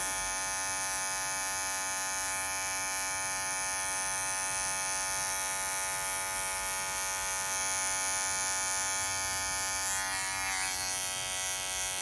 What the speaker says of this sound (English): by me standing my clipper up and out at a 90-degree angle, it gives me just a little bit of extra length